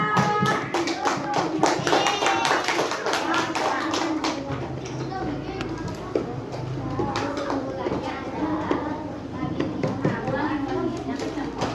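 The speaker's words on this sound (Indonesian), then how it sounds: "Ini kasih tepuk tangan dulu dong buat Akila." A classroom group claps in a dense burst of applause while voices chatter over it, the clapping thinning out as talk continues.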